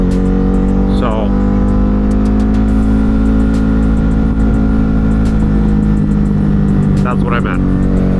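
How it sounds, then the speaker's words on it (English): A Ducati Hypermotard 950 RVE motorcycle engine drones loudly and steadily on an evening ride, with wind rushing over it. A rider talks over the engine sound. "the bike's like popping and snapping like crazy"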